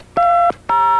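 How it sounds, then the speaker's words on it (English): Touch-tone telephone dialing: two short, loud, clean DTMF beeps in quick succession, each a steady pure dual tone with a brief gap between. "Just dial this toll-free number"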